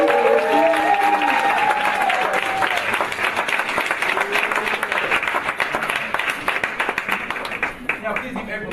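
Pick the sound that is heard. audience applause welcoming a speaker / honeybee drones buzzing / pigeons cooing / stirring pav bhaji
audience applause welcoming a speaker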